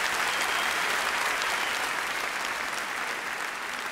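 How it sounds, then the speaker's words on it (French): Audience at the Liège International Comedy Festival 2014 applauding during Virginie Hocq's set, a thick, loud, sustained burst of clapping from many hands, steady and unbroken from start to finish. "Vous pouvez vous applaudir. Applaudissez-vous."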